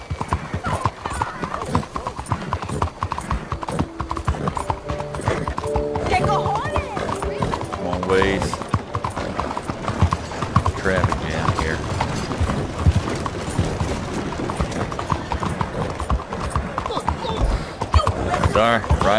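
Horse hooves clip-clopping at a steady riding pace in Red Dead Redemption 2, continuous and fairly loud throughout, mixed with game music, an occasional whinny and someone talking over it.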